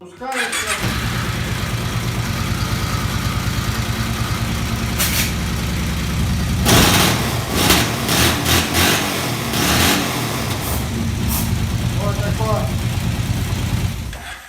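A Kawasaki Brute Force ATV engine, just reassembled after repair, cranks and catches, then idles with a steady low rumble before revving up in several sharp bursts and settling back to idle.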